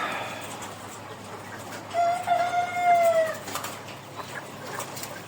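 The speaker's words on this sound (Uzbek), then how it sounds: "Mana o'zim bir kunlik olib bergan jo'jalarim." Day-old chicks peep in a close, continuous stream of high, thin cheeps, with one longer, louder sustained call rising above the brood for about a second before the chirping settles back to a steady background.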